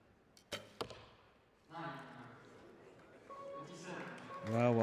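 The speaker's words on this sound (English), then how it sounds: "The second arrow for Andreoli's gone for a measure" Arrows striking a target during the finals of the 2022 Nimes Archery Tournament, two sharp thuds in quick succession, followed by a commentator talking.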